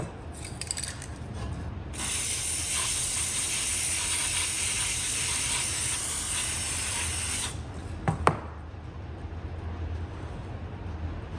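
Specialist Dry Lube is sprayed from an aerosol can into the motor of a rusted Milwaukee Model 0101 drill, a loud, steady hiss lasting several seconds, then a few sharp clicks and rattles of handling.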